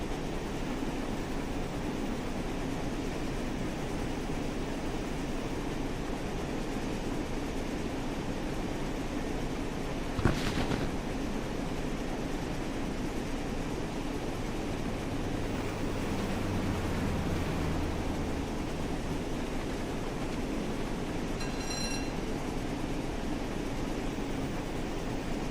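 A Great Western train in the video game Train Sim World 6 gives a steady low rolling rumble and hiss, with one sharp clank partway through and a short faint tonal whine near the end.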